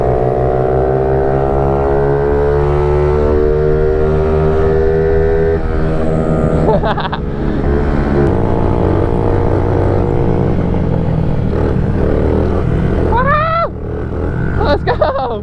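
Pit bike engines drone steadily on a street, loud and close, with revving harmonics rising and falling throughout. Riders shout and call out over the engine noise.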